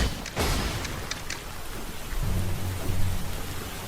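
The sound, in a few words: rain sound effect in a Roblox Demon Slayer video game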